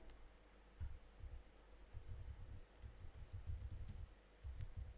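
Someone types on a computer keyboard, producing quiet, soft keystrokes in short irregular bursts with small gaps, heard alone against a faint hiss.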